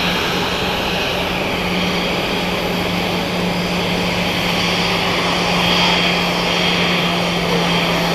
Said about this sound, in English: Those guys taking off now. This is the Airbus